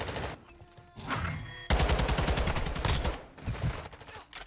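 Close, loud automatic gunfire in Call of Duty MW2 ranked multiplayer, rapid bursts of shots hammering right after a spawn, with a short pause before the firing resumes.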